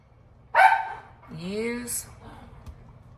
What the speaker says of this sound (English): I don't know why every time I get on here, my dog wants to bark.